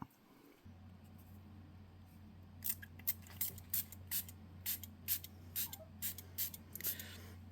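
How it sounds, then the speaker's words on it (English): A spray bottle mists in quick, repeated short bursts, about a dozen hissing squirts in a steady rhythm over a low background hum. "I'm going to spray it."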